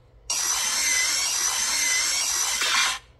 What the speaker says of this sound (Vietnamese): Đây các bác xem cắt tôn múi này rất ok luôn, tôn thẳng thế nhá, cắt rất là ngọt.